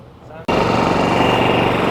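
A Coleman RV rooftop air conditioner kicks on abruptly after a quiet moment, then runs as a loud, steady broadband roar with a constant low hum from the compressor and fan.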